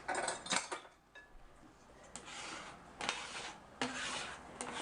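A ruler scrapes and rasps across a kitchen work surface in short, uneven strokes, quiet and close, with small clinks of debris between the passes.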